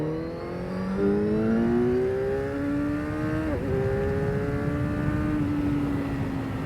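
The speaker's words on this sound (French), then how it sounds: "ce petit 4 cylindres, il donne quoi? Ici, on est à 3000 tours minute." Bimota KB4 motorcycle's four-cylinder engine revving from around 3000 rpm, a smooth loud whine climbing in pitch through gears, dipping briefly, then holding a steady drone nearby.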